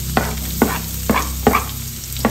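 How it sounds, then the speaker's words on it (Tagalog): Garlic and onion sautéing in a pan, a steady sizzle broken by five sharp stirring scrapes at regular intervals, close and moderately loud with no talk. "Kapag magigisa po kayo, siguraduhin po ninyo yung bawang at sibuyas ninyo hindi basa."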